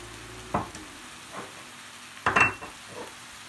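Tawa chicken fries on a hot griddle with a soft continuous sizzle as spices go in, broken by two brief bursts of scraping stirring, close and moderately loud.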